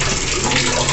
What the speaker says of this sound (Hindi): पानी भर रही थी